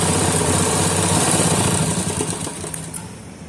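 A sewing machine runs steadily, stitching a seam along the edge of a pajama pocket turned inside out; a continuous close motorized whir with a faint rhythmic clatter that eases slightly toward the end, with no talking.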